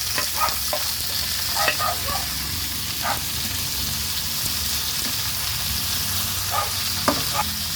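Carrots and tomato fry in a hot pan with a loud, constant sizzle as a cooked red pepper and fish escabeche come together, with scraping stirs of a utensil against the pan at intervals.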